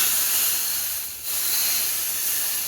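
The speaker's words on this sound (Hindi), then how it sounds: "ये चटनी में मैं डालने लगी हूँ तड़का" Hot tadka tempering hits chutney with a loud, steady hiss of steam and sizzle, close up, easing briefly before surging back, with no voices.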